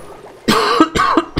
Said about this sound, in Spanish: es mía la tos